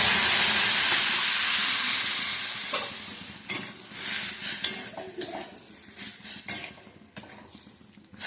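Dal dropped into a hot tempering of kesari methi, giving a strong sizzle that fades as it is stirred, followed by scattered clinks and scrapes of a spoon against the pan; pumpkin greens and masoor dal tadka.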